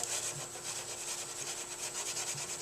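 Cloth rubbing Howard Restor-A-Finish into the worn finish on a piece of wooden furniture's legs, a steady, hard back-and-forth scrubbing swish that repeats continuously and close up, with no talking.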